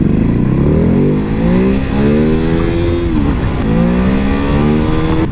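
A Ducati Hypermotard 1100 motorcycle engine, loud and close, with its throttle rising and falling through repeated revving sweeps that roll up and back down in pitch, heard alone with no talk.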